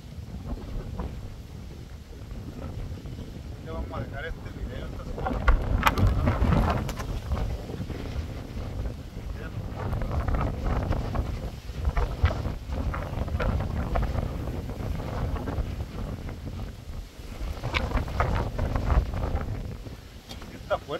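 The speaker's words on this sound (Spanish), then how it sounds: "Está fuerte el viento que nos está" Strong, gusting wind from a storm in California roars and buffets the microphone throughout, with a low rumbling rush that swells louder midway and keeps going.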